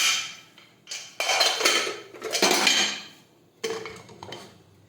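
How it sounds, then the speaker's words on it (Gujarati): A pressure cooker lid is handled and closed over boiling mung beans, a few close metallic clanks and scraping bursts separated by short pauses, with no voices. "હવે આપણે કુકરનું ઢાંકણ છે તે બંધ કરી દઈશું."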